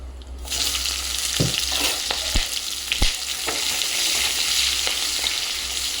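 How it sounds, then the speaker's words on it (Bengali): Onions fry in hot mustard oil with whole spices (cloves, cardamom, cinnamon, black cardamom and peppercorns) for doi chicken, making a constant sizzle broken by a few sharp stirring knocks and scrapes. "পেঁয়াজটা লাল লাল করে ভেজে নেব"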